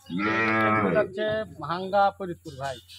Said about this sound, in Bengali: বেশ কিছু গরু দেখতেছি, কোথায় যাচ্ছে এগুলো?